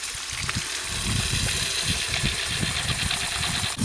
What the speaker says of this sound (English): Let's go ahead and hook it up in there and see if we can get this spinning.